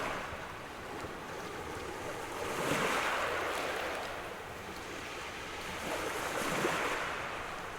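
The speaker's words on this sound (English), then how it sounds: "Oh, and the splashes and gentle waves amongst pebbles." Gentle waves wash and splash over a pebble shore, rising in two slow, broad swells over a steady hiss of surf, with no one talking.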